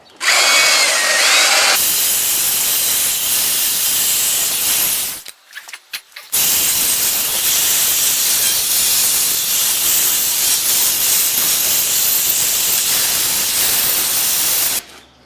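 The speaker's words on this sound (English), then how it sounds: "the wires on these wire wheels, they come out while you're using them" A wire wheel on a power drill scrubs rust off a car's brake rotor on a Lexus/Toyota, a loud harsh whirring and scraping that runs on, stops briefly, then resumes at full force.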